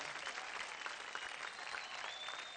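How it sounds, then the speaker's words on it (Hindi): A studio audience applauds a dancer named Alisha on a televised dance competition, a steady, dense wash of many hands clapping at once, fairly distant and even in level throughout with no voices over it. "जोरदार तालियां हो जाए अलीशा के लिए।"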